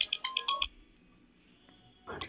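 A telephone rings during a religious debate: a quick run of bright electronic ringtone chirps, loud and close, then a pause and a brief return of the tone.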